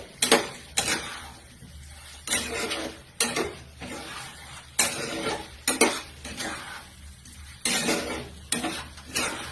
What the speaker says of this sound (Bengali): ভাজা মশলাটা ওপর থেকে ছড়িয়ে একটু নেড়ে চেড়ে নেবে